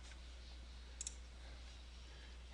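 A computer mouse clicks twice in quick succession, small and crisp against a quiet, steady background hum, with no talk.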